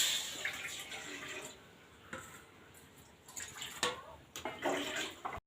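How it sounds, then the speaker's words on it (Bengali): Water pours into a cooking pot, a splashing, trickling stream that comes in uneven bursts and stops and starts, close and moderately loud. "প্রথমে আমি জল দিয়ে দিলাম"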